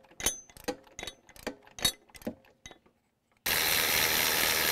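Ratchet with a 3/4 inch spark plug socket working a spark plug loose from a 1986 Honda 4x4 engine: a run of close, sharp clicks in uneven bursts, then a sudden loud steady hiss to the end.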